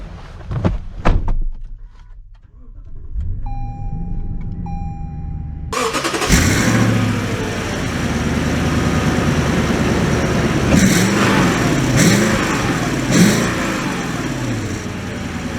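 A modified Toyota Land Cruiser's engine cranks and fires into a loud, steady running note, followed by door thunks and the rising drone of the vehicle pulling away close by, with no talking.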